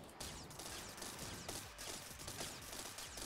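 Weapons fire at a large enemy in the vehicle-building game TerraTech, a dense steady rattle of rapid shots and mechanical clatter holding at an even, moderate level throughout.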